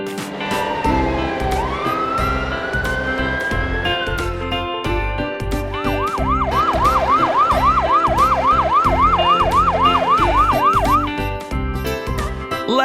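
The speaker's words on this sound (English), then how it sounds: "Ambulance." Cartoon ambulance siren from a kids' street vehicles cartoon, loud and close, first a long rising wail and then a fast repeating whoop pattern over a busy background beat, with no talking.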